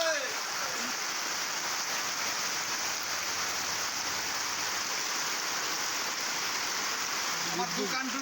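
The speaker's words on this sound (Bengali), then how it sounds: "প্রচণ্ড বৃষ্টি আজকে চলছে" Heavy rain pours down in a steady, dense roar that does not let up, with a faint voice briefly underneath.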